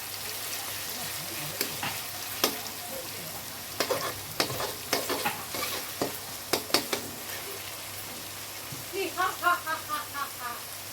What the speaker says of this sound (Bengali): একটু নুন দিয়ে দিলাম, তাহলে পেঁয়াজটা গলে যাবে ভালো। একটু লাল করে ভেজে নেব।